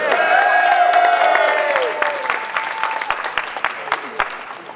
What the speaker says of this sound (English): Let's give another round warm of applause for the Solidarity Singers.